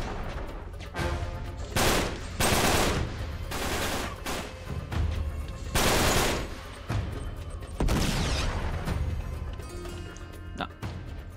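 Heavy gunfire in the video game Uncharted 3 during a desert battle, loud repeated bursts and volleys spread across the span with brief gaps between them, close and intense, no talking over it.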